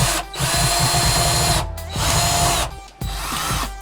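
Loud, close whirring of a power drill backing screws out of built-in living room shelving, running in long bursts broken by two short stops, with a steady motor pitch throughout.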